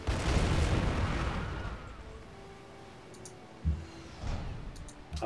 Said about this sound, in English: use these battleships to shell